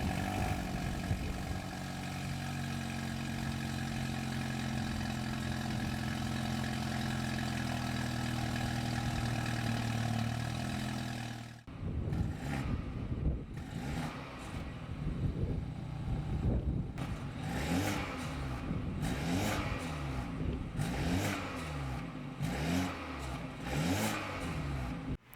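BMW F30 320i with N20 engine and muffler-delete custom axle-back exhaust, a steady idle drone for about eleven seconds, then a series of sharp revs rising and falling, close and loud with no talk.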